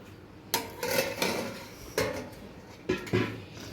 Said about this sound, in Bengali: খুলছে দেখো মাংসর ঢাকনা